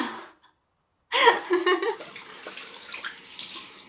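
Water gushes from a tap while someone rinses off during an evening skincare routine. A short silence comes first, then a loud, close, steady flow that slowly eases.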